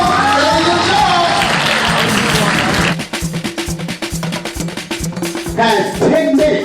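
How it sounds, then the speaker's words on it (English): A school assembly audience claps in a big round of applause, a dense wash of hands over crowd noise that settles into a rhythmic, steady clapping pattern, fairly loud and close. "big round of applause"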